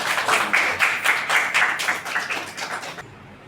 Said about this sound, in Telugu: చప్పట్లు కొట్టాలి చప్పట్లు కొట్టాయి